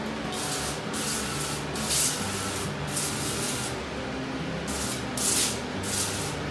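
Cooking oil sprays onto food in a kitchen as a series of loud, close hissing bursts, about five pulses at uneven intervals over a steady background noise, with no speech.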